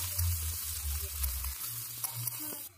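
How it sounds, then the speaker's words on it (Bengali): Chopped onion and green chili frying in mustard oil with whole spices in a wok, a steady close sizzle with a low rumble and a few light scrapes of stirring. "আবারও কড়াইতে কিছুটা পরিমাণ সরিষার তেল দিয়ে 5 ফোড়ন, কাঁচা লঙ্কা, পেঁয়াজ কুচি দিয়ে হালকা করে ভেজে নেব"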